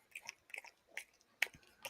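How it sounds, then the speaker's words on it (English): A dog chews on a treat close by, soft wet clicks and crunches arriving in quick irregular bursts separated by brief quiet gaps, faint overall. "Can you hear the dog making his little chewy noises?"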